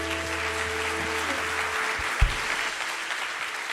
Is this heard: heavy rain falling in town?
no